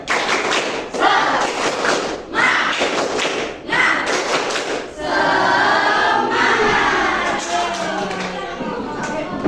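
A group of students in class doing a 'tepuk semangat' cheer: several sharp rhythmic claps in a patterned sequence, then a sustained stretch of dense mixed clapping and crowd noise.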